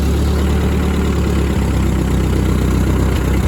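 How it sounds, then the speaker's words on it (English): A Ford 8N tractor engine runs at a steady, loud idle with a deep low rumble and even chugging throughout, a brief shift in tone near the middle, no talking over it. "let's go ahead and start the tractor up"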